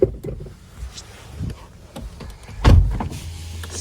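A power window on a Volkswagen Touran 1.6 MPI runs in a short, steady motor whir with a louder burst near the end, heard close up inside the car with no voices.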